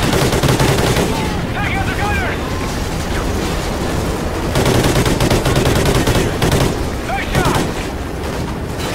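Sustained machine gun fire and bursts of shooting in the video game Call of Duty Ghosts rattle loudly and continuously, mixed with booming impacts, while voices shout over the din.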